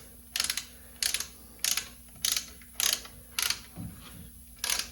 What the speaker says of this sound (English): Give her a little ratchet there. She'll start pushing those pistons back inside the caliper.